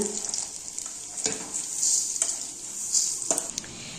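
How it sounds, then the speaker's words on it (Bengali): Washed Gobindobhog rice and bay leaf go into a hot pot with cinnamon and cardamom, giving a steady close sizzle broken by a few sharp clatters and stirring scrapes, with no talk. "তেজপাতা, ধুয়ে রাখা গোবিন্দভোগ চালটা দিয়ে দিচ্ছি।"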